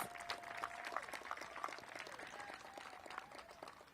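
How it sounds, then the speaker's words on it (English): Crowd at a mayoral event announcing the DC Teacher of the Year applauds, a steady spread of clapping from a modest audience, fairly quiet and continuous. "Give them a big round of applause."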